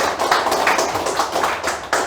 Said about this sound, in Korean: 큰 박수로 한번 맞아주시기 바랍니다